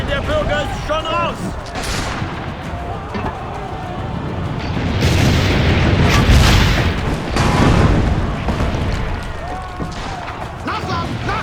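Cannon fire during a siege battle in Assassin's Creed Brotherhood, with heavy booms and rumbling blasts that swell in the middle, mixed with voices talking over the din.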